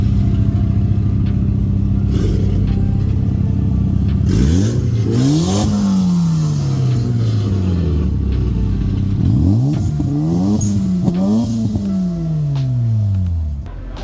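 A Mazda RX-7 FD rotary engine with a full 99-spec conversion revs hard several times, each blip rising and falling in a sweeping wail, loud and close over a steady idle.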